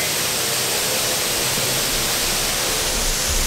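Cinangrang waterfall in Subang, a dense, even roar of falling water filling the whole stretch, loud and continuous with no voices.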